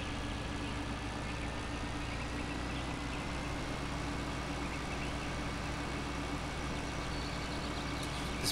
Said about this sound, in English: It's hard to believe this tractor is pulling this baler.